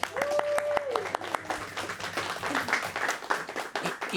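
Audience applause at a student senior presentation event, with a dense crowd of claps rising quickly at close range. A short tone is heard at the start.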